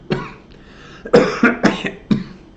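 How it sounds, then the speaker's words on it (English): Several harsh coughs in close succession, loud and near, with brief pauses between the bursts and no talking. "And I have to cough."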